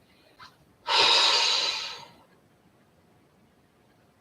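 A single deep breath during a strength-and-stretching exercise, heard as one loud, airy inhale lasting about a second, close to the listener, with near silence before and after.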